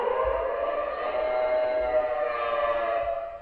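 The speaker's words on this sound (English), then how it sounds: "Changed to a siren." A lighthouse fog signal siren at the Piedras Blancas Light Station in San Simeon, California, sounding one steady, sustained wailing blast that carries loud and unbroken throughout, with no voices.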